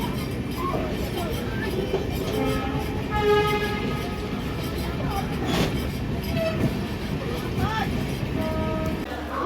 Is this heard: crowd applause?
no